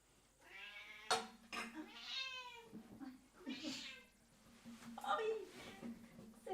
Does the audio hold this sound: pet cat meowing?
yes